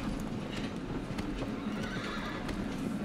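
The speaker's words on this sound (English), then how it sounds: "It's a very majestic horse." A horse in the video game Shadow of the Colossus neighs while its hooves clip-clop in a quick rhythm, fairly faint, with no talk over it.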